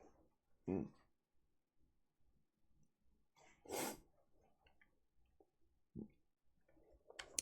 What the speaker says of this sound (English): I think I might need a sneeze. Turns out I was right.